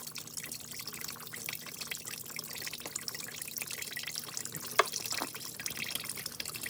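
Fluid draining from a twin-turbo 5.7 engine during a teardown, a faint steady trickle with scattered drips and one sharper splash, heard up close with no talking.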